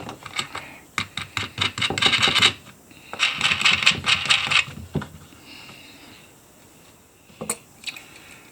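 Metal washers and bolts clink and tick as they are fitted onto a fossil crab concretion, with quick bursts of small metallic clicks and rattles followed by sparser, separate taps. Nobody speaks.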